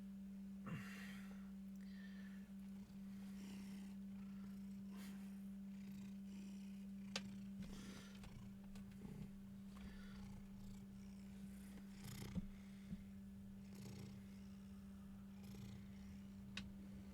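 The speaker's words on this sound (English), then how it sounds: "I love this cat." A cat purrs steadily and continuously up close, a soft low rumble with faint rustling and small clicks in a quiet room.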